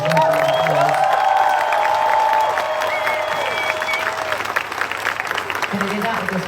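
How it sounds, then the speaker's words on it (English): A huge stadium crowd at a concert in Munich applauds and cheers, a dense roar of clapping with a few whistles that gradually thins toward the end. "Give my incredible band a round of applause."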